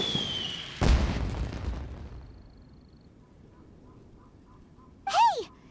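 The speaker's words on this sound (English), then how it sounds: "Did you hear that explosion?" A sharp, loud boom in Genshin Impact bursts out and rumbles away into a fading tail, followed later by a brief whistling, chirping burst.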